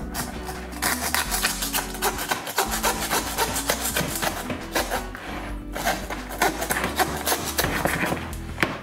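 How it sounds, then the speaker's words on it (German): A hand saw cuts through game meat along the vertebrae, giving a steady, continuous rasping with repeated back-and-forth strokes, close and fairly loud, with no one speaking. "Das kann man hier mit so einer Säge machen."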